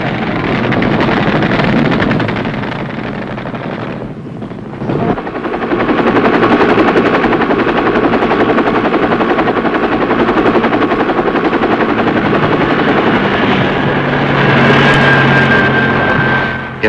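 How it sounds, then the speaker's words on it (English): A military medevac helicopter in flight, its rotor throbbing loud and steady nearly throughout, with a brief dip in the middle before the roar returns. "In less than 7 minutes after the pickup, Medevac has brought Dave Baggett to touchdown"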